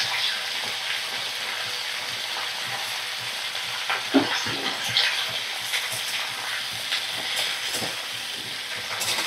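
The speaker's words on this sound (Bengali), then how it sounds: "মিডিয়াম ফ্লেমে রেখে ভাজা করে নেব শিমগুলো" Green beans frying in a pan over a medium gas flame, a steady hiss of sizzling oil with occasional louder pops and stirring scrapes, continuous and close, no talking.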